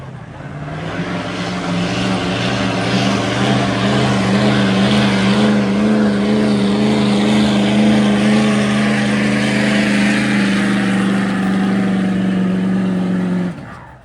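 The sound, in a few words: 2011 Ford F-250 truck engine revving at a truck pull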